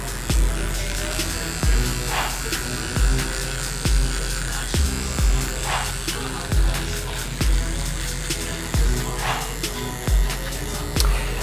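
Electric hair clippers with a number two guard closed buzz steadily during trimming. Short bursts and soft knocks recur at regular intervals as the clipper is flicked against the hair.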